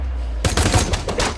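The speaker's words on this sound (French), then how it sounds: "Une violente fusillade éclate immédiatement." Film shootout with violent gunfire: after a quiet moment, a rapid burst of close, loud automatic shots in quick succession, followed by a few more spaced bursts.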